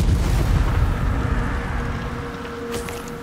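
Spell-casting effects from the video game Hogwarts Legacy: a broad, booming magical blast rumbles through a dense, loud wash of game noise, with a bright crackling burst flaring near the end.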